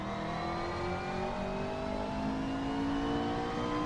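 Race car engine from the Assetto Corsa video game, driven around Sebring International Raceway, holding a steady high-pitched whine that rises gradually as it accelerates, loud and continuous with no voices.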